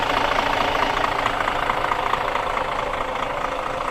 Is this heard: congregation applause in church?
no